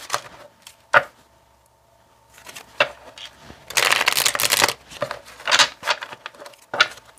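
Tarot cards being shuffled: soft taps and slides at first, then a long dense riffling burst followed by several shorter shuffling rustles, close and fairly loud.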